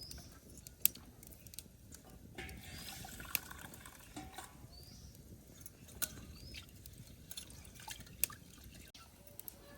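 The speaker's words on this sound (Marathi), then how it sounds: "डाळ धुतली." Lentils being rinsed in water for a Maharashtrian spicy varan, with soft drips, trickles and patter of wet grains against a vessel, low and close, no talk.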